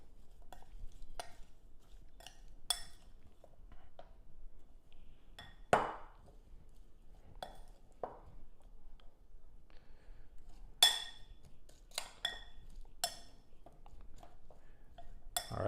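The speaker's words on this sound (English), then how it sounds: "Go ahead and mix that up with a spoon." A spoon stirs grapeseed oil in a dish, giving soft scraping and occasional light clinks against the dish, quiet and intermittent.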